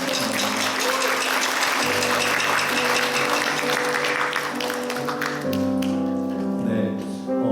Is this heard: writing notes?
no